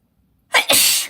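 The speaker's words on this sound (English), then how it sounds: "I'm gonna sneeze." A single loud, close sneeze: a short sharp intake followed by a forceful, breathy burst, with silence beforehand.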